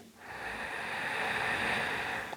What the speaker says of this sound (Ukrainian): Давайте вдих животом.